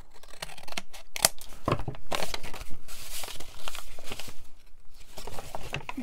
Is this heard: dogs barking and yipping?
no